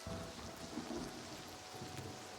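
Rain and thunder from the video game Oblivion Remastered on an evening: a steady, dense hiss of falling rain with a low rolling rumble underneath, continuous and fairly loud, with no talking.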